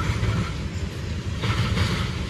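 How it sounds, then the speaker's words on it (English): A CSX freight train rolls past Depot Street in Berea, Ohio, a steady low rumble of wheels and cars with faint rail clatter, fairly close and continuous. "CSX trains."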